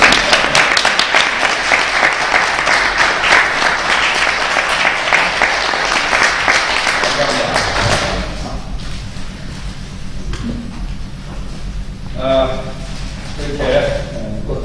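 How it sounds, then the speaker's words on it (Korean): Audience applause at a lecture hall event, broad steady clapping filling the first eight seconds loudly, then fading into quieter room noise with scattered sounds. "큰 박수 부탁합니다"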